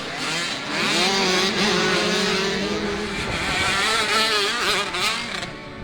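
Several 65cc and 85cc dirt bikes race around a motocross track at a hare scramble, their small two-stroke engines whining loudly and continuously, with pitch rising and falling as riders rev and shift, and no talk.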